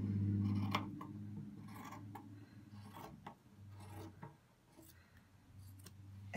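Scissors snipping through a cotton t-shirt, with soft rasping cuts repeating in an uneven rhythm, heard close and faint.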